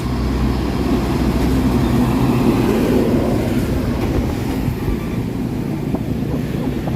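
The Lodaya passenger train rumbles along the rails at a steady pace in Indonesia, a loud continuous roar with a low rhythmic clatter throughout.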